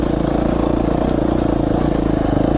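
A Beta 500 motorcycle engine chugs steadily at close range on steep Idaho singletrack, with a rhythmic mid-pitched throb and constant wind noise.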